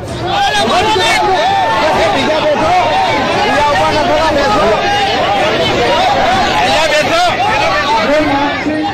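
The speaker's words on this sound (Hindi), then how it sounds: "नेताओं और अधिकारियों समेत कई लोगों की भीड़ मौजूद थी" A crowd gathers at Rahul Gandhi's rally, held in flood-hit Banaskantha district in Gujarat, and fills the air with loud, dense, continuous chatter and overlapping voices.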